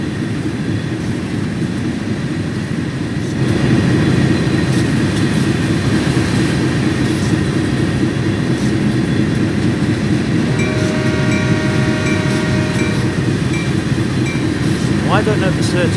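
GP9RM diesel locomotive pulling tank cars in Train Sim World 2, a steady droning engine rumble with rattling wagons and rising whine, continuous and fairly close, with a brief horn-like tone near the end.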